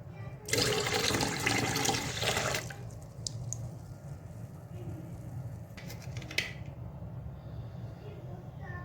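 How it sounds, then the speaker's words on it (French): Water pours steadily into a dough mixture being made for pizza and borek, a loud rushing splash lasting about two seconds, then a quieter room with faint clinks and a few small knocks. "Et 2 verres et demi d'eau."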